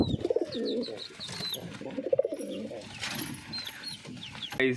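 Pigeons cooing and warbling in soft repeated phrases, with rustling and other bird chatter close by; a sharp bright chirp near the end.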